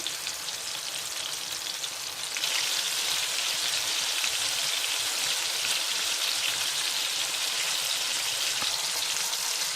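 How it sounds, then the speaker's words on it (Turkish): Meatballs sizzle and crackle in a hot pan, a steady bright hiss that grows louder after a couple of seconds and continues without talking. "Evet köftelerimizi tavaya koyduk. Şu anda bir tarafları kızarıyor."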